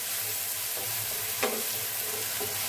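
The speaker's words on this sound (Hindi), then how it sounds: "तो हम इसको हल्का सा फ्राई कर लेंगे प्याज को और लहसुन को।" Chopped onion and garlic frying lightly in a pan, a steady soft sizzle throughout with a brief stir or scrape in the middle, close and continuous, no voices.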